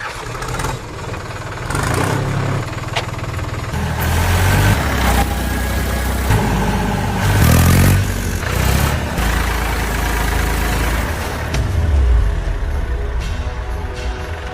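A tractor engine chugs steadily nearby, its low rumble swelling as it revs and pulls away over a farm field, loud and continuous for the whole stretch.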